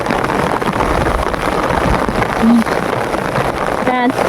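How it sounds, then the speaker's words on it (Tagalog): Steady rain hiss fills the clip with a constant broadband wash, plus a brief tonal blip midway and another near the end. "kanina pa umuulan, hindi humihinto ang ulan"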